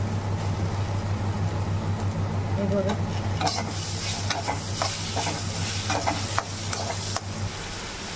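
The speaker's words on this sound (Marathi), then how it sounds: "टमाटर पण आपल्याला भाजून घ्यायचं आहे" Chopped onion and tomato roast in a hot pan, a steady sizzle running throughout with scattered scraping stir strokes and utensil clicks growing busier toward the end.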